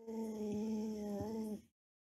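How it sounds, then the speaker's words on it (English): A dog whimpers in a Roblox video game, a sustained whining whine with wavering pitch for about a second and a half before cutting to silence, with no talk over it. "That sounds like a dog."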